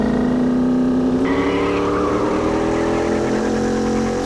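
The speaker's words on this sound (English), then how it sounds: "the tires screeching." A Porsche Cayenne Turbo engine roars steadily with a rising whine in the City Car Driving video game, joined by a sustained high-pitched tire screech on ice, heard from the interior, loud and continuous throughout.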